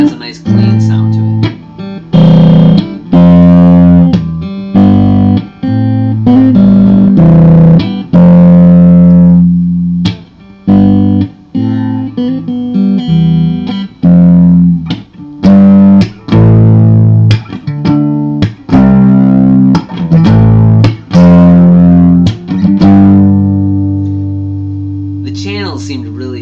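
Clean-channel electric guitar through a Line 6 DT25 amp, played as a run of plucked notes and chords with sustained ringing tones, loud and close, steady for the whole stretch.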